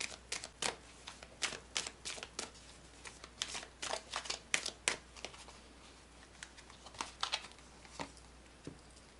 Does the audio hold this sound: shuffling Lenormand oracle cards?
yes